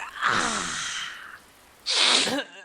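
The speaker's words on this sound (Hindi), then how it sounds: "गीले हो के अगर तुमको सर्दी जुकाम हो गया है तो अपने ही घर में छुप छुप के छींकना पड़ता है" Two loud, close sneezes from someone soaked in monsoon rain and catching a cold, the first drawn out and the second shorter and sharper, with a brief quiet gap between them.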